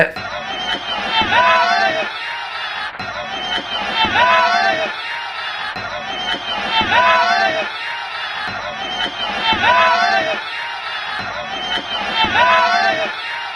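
A large crowd of RCB fans in a stadium setting shouts and jeers at the CSK team bus in loud, repeating surges of massed voices, with chatter and cheering mixed throughout.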